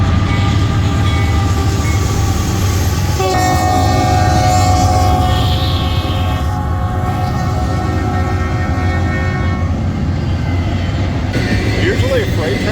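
A fast freight train passes close by with a loud, steady rumble and wheel noise, and its multi-note horn sounds for several seconds in the middle.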